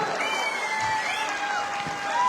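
A hall audience at an AWPL speech event in Ahmedabad, Gujarat, applauds with a dense, steady roar of clapping that stays loud and unbroken throughout. A faint whistle-like tone drifts over the top.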